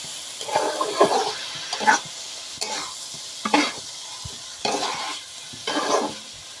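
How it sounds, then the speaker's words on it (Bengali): Egg being stirred together with vegetables in a frying pan for noodles, a spatula scraping in five or six distinct rhythmic strokes over a soft sizzle, close and fairly loud. "এখন আমি ডিমের এর সঙ্গে সবজির সঙ্গে মিশিয়ে দিব"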